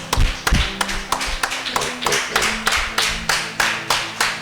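A church congregation claps in praise during a French-language worship service, a dense, steady run of about a dozen loud rhythmic clap bursts, evenly paced, with no talk over them.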